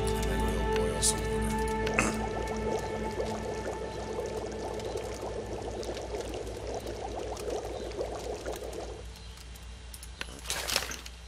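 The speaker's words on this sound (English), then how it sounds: "And then we'll boil some water." Water boiling in a pot in The Long Dark survival video game: a quiet, continuous bubbling and gurgling simmer runs for several seconds, then fades, with a few small clinks near the end.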